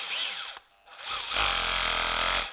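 An 18V cordless hammer drill runs briefly, stops, then spins up again in hammer mode with a loud, dense buzzing rattle and a strong low hammering pulse, held for about a second before cutting off.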